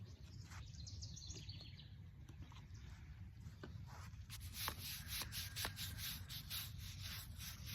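A brush scrubs a headstone during restoration outdoors, soft repeated rubbing strokes that are faint and close, with birds calling in the background.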